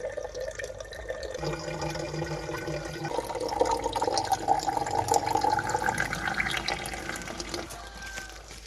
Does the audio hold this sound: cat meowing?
no